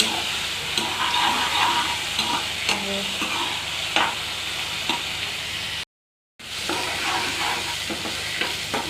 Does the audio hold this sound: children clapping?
no